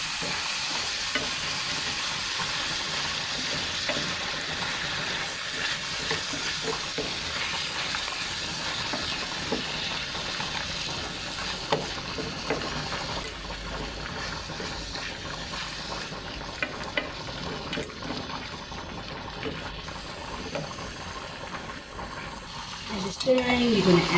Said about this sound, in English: As you're stirring, you're going to add just a little bit of water, just so it covers like that